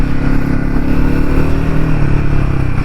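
A Royal Enfield Himalayan 450 motorcycle ridden through city streets, its engine droning steadily and loudly up close with a low thumping rumble throughout, no voices.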